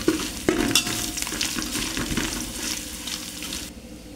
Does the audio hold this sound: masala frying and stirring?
yes